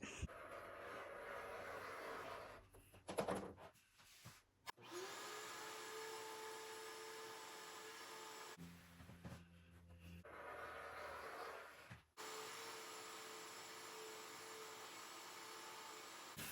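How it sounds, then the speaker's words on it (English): A vacuum cleaner whines steadily, close and continuous, picking up fabric scraps along a quilt's cut edge, cutting out and restarting twice with brief clunks and suction changes in between. "I will use the vacuum to clean up the cut edge of the quilt"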